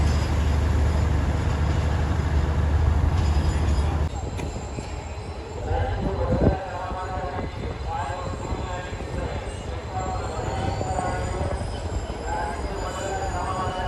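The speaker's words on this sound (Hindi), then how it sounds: "Karachi cantt railway station platform number 2 से ये रवाना हो चुकी है" Karachi Express pulling out of platform 2 at Karachi Cantt railway station, a steady loud rumble of rolling wagons and wheel noise that continues throughout, with a brief clank midway and voices and station bustle mixed in.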